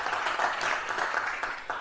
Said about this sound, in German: Der Applaus ist nur für dich.